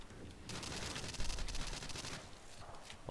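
Rapid gunfire in Call of Duty Modern Warfare 2, a dense burst of automatic shots that swells, eases off and returns near the end, fairly faint and with no talk over it.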